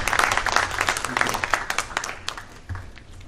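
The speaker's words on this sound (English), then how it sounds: "Please give them a warm round of applause." Audience applause at a panel discussion on investing in Nigeria, thanking the panelists: a moderately loud burst of many clapping hands that thins out toward the end, with some talk mixed in.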